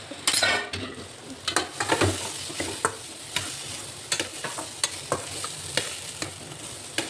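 Dal being tempered in a pan, spices sizzling in hot oil while a spoon stirs and scrapes with repeated sharp clinks over a steady frying hiss, close up, with no talking.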